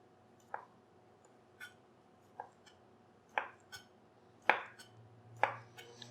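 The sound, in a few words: knife slicing cucumber with skin on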